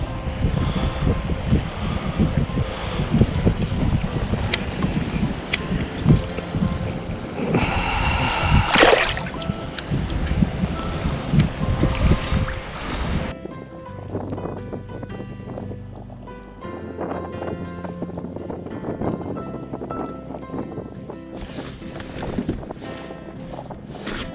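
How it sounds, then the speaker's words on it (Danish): A strong wind buffets a small fishing boat on the Limfjord near Lundø, Denmark, in late November. Loud gusts roar across the microphone, with churning water and a few splashes, and no voices are heard. "Det blæste fandme helt vildt."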